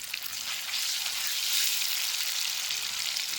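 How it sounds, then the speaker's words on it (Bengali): Spice paste of ground garlic, chili, cumin, coriander and ginger frying in a pan for a rohu fish and cabbage dish, giving a steady close hiss of sizzling oil with faint stirring, no talk. "মশলাটা হালকা একটু নেড়ে নিয়েছি"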